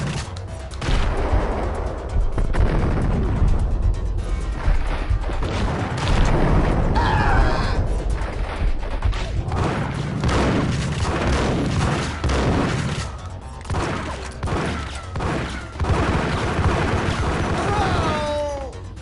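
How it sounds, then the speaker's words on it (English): Grenade explosions and gunfire in Max Payne. A dense, loud run of booms, crashes and shots rolls on with little let-up, and brief voices break in near the end. "God damn it, where are these getting all these grenades?"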